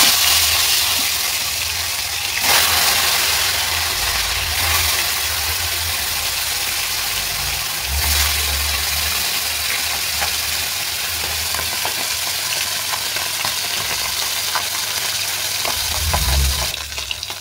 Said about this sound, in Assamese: তো এয়া মই মাছখিনি ভাজি আছোঁ